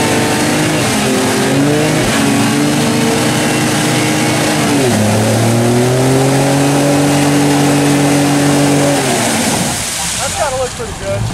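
A 2020 Ford Raptor pickup truck revs hard with only one wheel spinning, the loud engine rising and falling through sustained high revs before easing off, with faint voices near the end.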